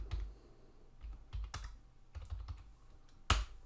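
A computer keyboard being typed on to enter a meeting ID, with a few separate bursts of light, close keystrokes and one sharper final key press, in a quiet room.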